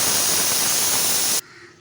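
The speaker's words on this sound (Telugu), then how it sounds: "విజిల్ అయిపోయింది, ఆవిరిపోయింది." Steam rushes from a pressure cooker cooking brinjal and peas curry after its whistles, a loud steady hiss that cuts off abruptly near the end, leaving a faint low residual noise.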